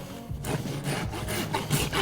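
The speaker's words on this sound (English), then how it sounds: "I'm going to bevel the whole outside of the foot, not coming into the white line," A rasp scrapes along the outer wall of a horse's hoof, beveling the edge during barefoot trimming, with repeated rough strokes close up and steady, no talk.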